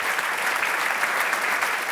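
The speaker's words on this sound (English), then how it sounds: "feel free to clap." A brief burst of audience clapping at an award show during a music festival, dense and fairly loud, steady throughout with no talking over it.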